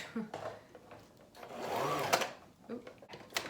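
Sewing machine stitching the top part of a homemade fabric face shield, running in bursts with a steady mechanical whir between pauses, close by, with brief speech-like sounds in the gaps.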